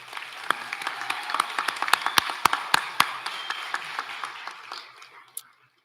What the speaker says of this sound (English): Can I get another applause for the awardees?